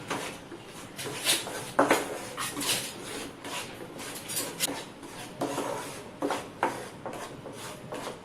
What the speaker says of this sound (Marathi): खमंग पिठाचा वास येईपर्यंत आपण तुपामध्ये परतून घ्यायचं आहे